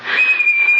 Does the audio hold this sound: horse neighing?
no